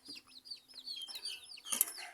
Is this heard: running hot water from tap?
no